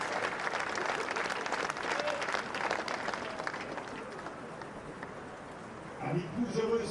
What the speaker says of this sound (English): Et puis on applaudit les trois championnes.